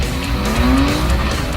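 BMW E36 race cars roar close by at full throttle, tires squealing in a rising screech over the dense, loud engine noise.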